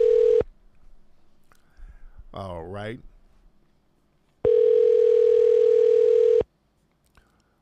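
A telephone call being placed: a short burst of steady dial tone, a quick run of dialing tones, then a longer two-second stretch of continuous tone, with a brief spoken remark in between.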